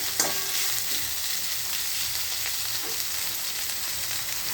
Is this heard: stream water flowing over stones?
no